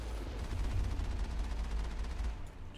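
A Geth Colossus fires on the player in the Mass Effect video game, producing a dense, continuous barrage of loud shots that holds steady for a few seconds with no talk over it.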